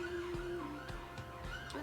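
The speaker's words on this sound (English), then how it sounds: "And another siren." An emergency vehicle siren wails outside with rising and falling tones, heard at a moderate distance over light background noise. Nobody talks.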